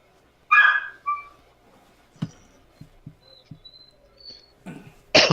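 A dog barks once loudly and near, then gives a couple of smaller yips, with soft thumps and knocks in between, and a final sharp bark at the end.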